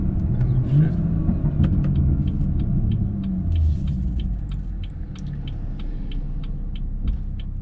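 A BMW fitted with an M Performance exhaust gives a deep, steady exhaust rumble after a downshift, with faint rhythmic ticking above it and a voice talking over the engine.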